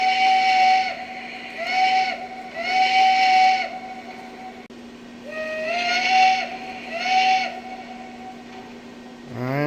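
A Lionel Legacy toy train's steam whistle sounds in four sustained harmonic blasts, two short and two longer, over a low steady hum, ending with a rising mechanical whir.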